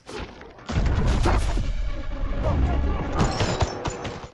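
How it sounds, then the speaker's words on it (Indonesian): Dense gunfire from many shooters pours into a house in an action film scene, with a continuous roar of rapid shots, booms and impacts, loud and close throughout. "rumah Emily dan Matt ditembak oleh banyak orang"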